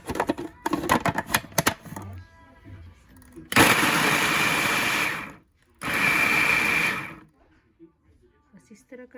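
Electric kitchen grinder pulverizing ingredients for a chicken kaddu (chicken with pumpkin) curry, two loud sustained whirring bursts of a couple of seconds each, preceded and followed by clattering kitchen handling noises.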